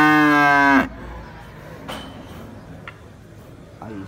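A cow at a cattle show in Santa Rosa de Lima lets out one long, loud, close moo, followed by quieter ambient noise with faint ticking.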